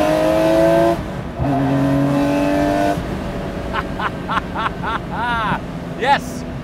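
A manual Guntherwerks Porsche 993 Speedster is driven hard on grippy canyon tarmac in California. The engine revs loudly and rises in pitch, then drops sharply at quick gear changes, followed by short rising bursts.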